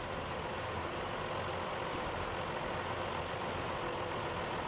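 Truck engine idling in the off-road game SnowRunner, a steady low rumble with a broad hiss layered on top, constant and unbroken throughout with no voices.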